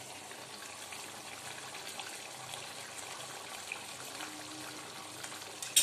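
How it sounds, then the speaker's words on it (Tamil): Steady bubbling and simmering of Tamil fish curry (meen kuzhambu) in a pot, a continuous soft hiss and gurgle with no voices. "இப்போ வந்து குழம்பு நல்லா கொதிச்சிருச்சு"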